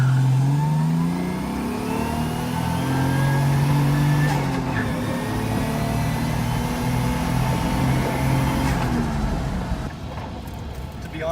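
A drift-built Mazda FC RX7 with a swapped 1JZ engine accelerates hard under high load, its loud nearby exhaust rising in pitch through the revs for several seconds before easing off near the end.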